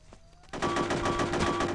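Guards open fire in Hitman: Codename 47, a sudden burst of rapid automatic gunfire erupting after a quiet moment and rattling on loudly and steadily to the end.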